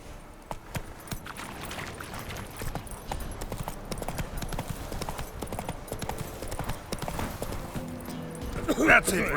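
Roach, Geralt's horse in The Witcher 3: Wild Hunt, gallops with steady clip-clopping hooves through the whole stretch, close and continuous under ambient game sound, with a brief voice near the end.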